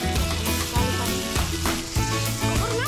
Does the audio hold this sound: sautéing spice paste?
yes